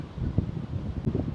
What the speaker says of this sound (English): Sorry, it's a bit windy.